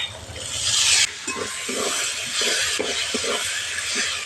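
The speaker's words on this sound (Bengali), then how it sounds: "দুটো টমেটো কুচিটা দিয়েও মশলাটা আবারও ভালো করে কষিয়ে নেব" Chopped tomatoes frying with spice masala in a pan, a steady close sizzle broken by repeated scraping stir strokes and light clinks of a utensil against the pan, with no talk.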